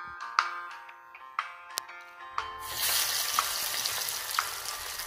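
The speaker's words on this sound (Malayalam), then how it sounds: "നമ്മുടെ എണ്ണയൊക്കെ നന്നായിട്ട് ചൂടായിട്ടുണ്ട്. നമുക്കിനി ഓരോ വട വെച്ച് ഇട്ട് കൊടുക്കാം." Banana flower vada sizzles as it fries in hot coconut oil, a steady crackling bubbling that swells after a few sharp clinks of a utensil against the pan, close and fairly quiet.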